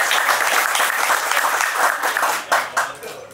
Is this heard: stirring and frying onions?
no